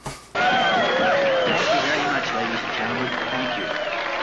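A movie-review audience cheers and claps loudly and steadily after a brief opening burst, with voices mixed into the crowd noise throughout.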